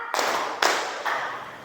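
Students in a classroom clap a quick two-beat pattern, two crisp unified group claps a half second apart, then a softer third burst trailing off.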